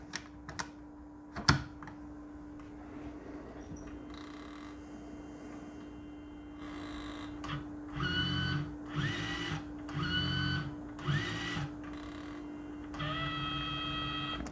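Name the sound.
QIC tape cartridge being inserted into a tape drive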